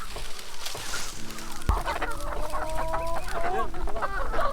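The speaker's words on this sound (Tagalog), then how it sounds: "Itinaboy na namin ang mga manok papunta sa nakasetup na maliit na paddock para mas madaling" Free-range chickens cluck and chatter continuously in a busy flock, close by in a small paddock, with a sharp thump partway through and steady background noise.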